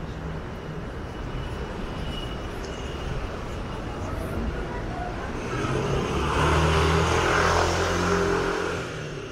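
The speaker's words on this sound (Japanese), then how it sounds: "あー危ねえな、バイクがガンガン来てる" Motorbikes roar past on a busy street near Zhongshan Station in Taipei, a continuous engine rumble that swells loudly midway as something close goes by.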